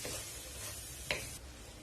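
Egg podimas with coriander leaves and added gravy is stirred in a pan over a soft, steady sizzle, with one sharp metallic tap of a spoon against the pan partway through.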